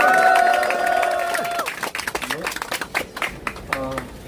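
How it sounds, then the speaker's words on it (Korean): Crowd at a youth farmers' meeting cheering and clapping after a sustained musical chord, the clapping breaking into scattered bursts under talk. "좀 약한 것 같은데 다시 한번 함성 부탁드립니다"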